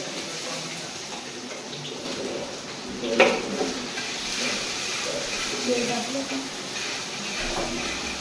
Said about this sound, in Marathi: आता मी आळूच्या वड्यांना फोडणी देते